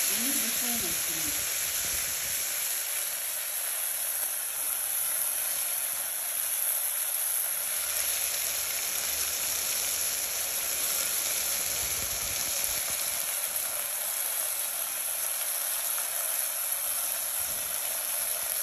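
Spinach and green chilli mixture hitting a hot cooker, giving a steady, even sizzle and hiss that runs the whole time with no pauses.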